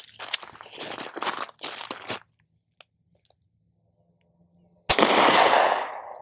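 Two loud, sharp Sig P365 Gen 2 pistol shots fired at a 75-yard target, the second near the end followed by a long ringing decay, after earlier handling clatter and a quiet pause.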